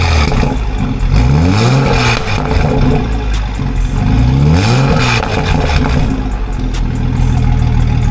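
A Toyota Supra fitted with a catless downpipe revs in short bursts close by, the engine note climbing and falling twice over a rumbling idle, loud and raspy throughout.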